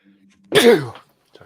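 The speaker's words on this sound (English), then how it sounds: "It's a good sneeze." A single quick, breathy sneeze bursts out close by after a faint low hum, then silence with a small sound at the end.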